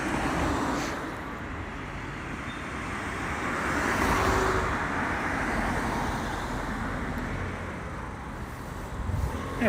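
Steady car traffic at a street intersection near a train station, a continuous broad road noise that swells slightly midway, with no talk over it.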